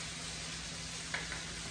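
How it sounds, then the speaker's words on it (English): Bacon sizzles steadily in a frying pan, a constant close crackling hiss with a faint clink or scrape partway through and no talk. "I got my bacon frying up here."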